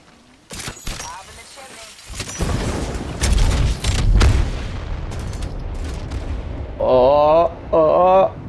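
Video game cannon fire: sharp booming blasts and heavy impacts in quick succession, with a player talking over the action and a tonal game sound near the end.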